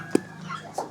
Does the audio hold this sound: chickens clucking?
yes